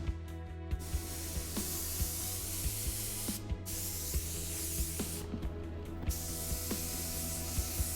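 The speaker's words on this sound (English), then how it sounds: "here I am applying my high solids clear coat. I'm using my Iwata WS400." An Iwata WS400 spray gun with a 1.3 nozzle and needle sprays high solids clear coat in a steady, loud hiss of atomized spray. The hiss is broken by brief pauses and cuts, and faint clicks and bumps run underneath.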